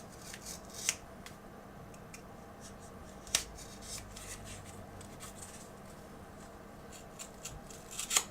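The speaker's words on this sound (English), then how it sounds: "I'm just gonna cut a little piece off." A few faint, isolated scissor snips trim a small piece off a strip for a stop-motion puppet, spaced seconds apart in a quiet room.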